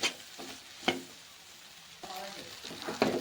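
Dry-fried cauliflower (gobi) with chilli frying in a pan, a steady soft sizzle broken by a few sharp spatula scrapes and stirs against the metal, close up with no talking.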